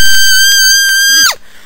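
A cartoon character lets out a loud, sustained high-pitched scream that wavers slightly before cutting off abruptly, followed by a brief low trailing sound.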